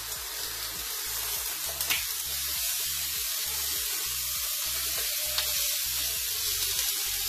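Meat searing in a pan coated with Mycryo cocoa butter, a steady close sizzle with crackling spits, over a low repeating hum in the background.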